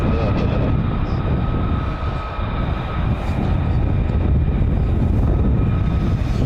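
An F-35 fighter jet passes over RAF Lakenheath, a loud, continuous broadband roar that swells and fades slightly across the whole stretch, steady and close, with no voices.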